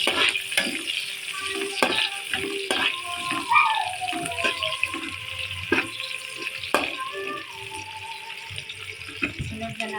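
Chopped onion frying in hot cooking oil with light-browned garlic in a home kitchen pan, a steady close sizzle broken by repeated clanks and scrapes of a stirring utensil, with brief speech in between.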